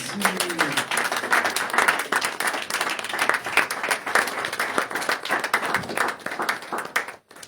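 A church conference audience claps steadily for Jesus, dense continuous applause with a roughly rhythmic pulse that carries on for several seconds before dropping off at the end.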